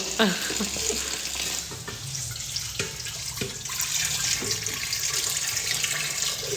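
Tap water runs steadily into a sink while a coconut is rinsed by hand, a continuous splashing stream with small clatters and shifts in the flow.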